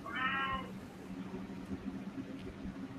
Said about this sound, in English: was that a cat meow?